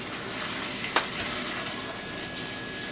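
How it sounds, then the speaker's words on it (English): Water poured into a pan holding a large batch of dates, a soft steady splash and trickle with one brief sharper splash, quiet and with no voices. "And then we add water, 14 pounds of water."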